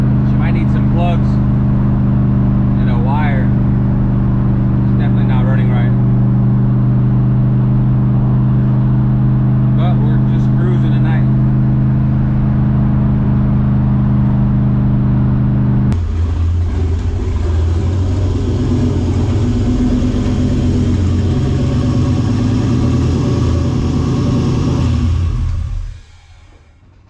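A V8 engine from an LS swap in a Toyota Supra cruises at night, a steady loud low drone that shifts to a rougher, busier rumble midway before cutting off near the end, with voices heard over the first part.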